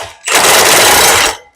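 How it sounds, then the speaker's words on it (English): Power impact wrench whirring in reverse with an 1 1/16 wrench and 1 1/8 socket to remove a rear wheel nut on a Jolly Dolly motorized dolly; a single loud, sustained burst just over a second long. "First, we're going to remove the nut."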